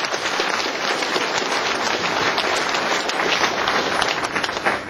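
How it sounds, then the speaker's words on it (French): Dense, steady applause from an audience at a political rally speech fills the room, loud and continuous with no pauses or voices standing out. "Et j'aimerais qu'on l'applaudisse."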